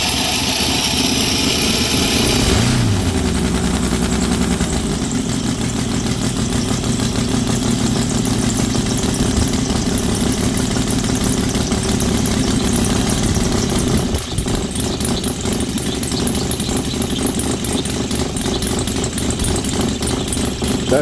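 A Saito FG90R3 model engine idles loud and steady close by, a low, even putter that runs without a break throughout, with its pitch and tone shifting slightly partway through.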